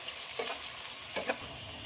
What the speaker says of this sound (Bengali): পেঁয়াজ কুচি দিয়ে খুব ভালোভাবে নেড়ে দেবো ভাজার জন্য